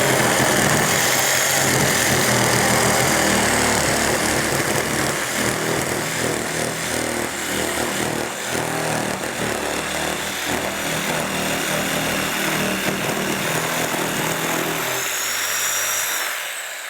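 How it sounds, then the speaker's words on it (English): A jigsaw fitted with a coarse blade cuts through cement board, its harsh buzzing rasp loud and continuous for about sixteen seconds before it winds down at the end. "Now we're going to use the jigsaw with the coarse blade."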